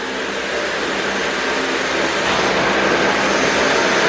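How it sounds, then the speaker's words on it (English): A Dyson vacuum cleaner runs while vacuuming a living room floor, giving a loud, steady whirring roar that is close and continuous throughout, with no talking. "I'm gonna start vacuuming now. I'm using my Dyson."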